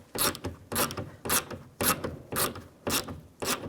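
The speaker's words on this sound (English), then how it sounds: "use a 10mm socket. Loosen this bolt up." A 10mm socket and ratchet loosening a window regulator bolt inside the passenger door of a 2002-06 Chevy Avalanche, giving seven evenly spaced bursts of close, rasping ratchet clicks with short pauses between strokes.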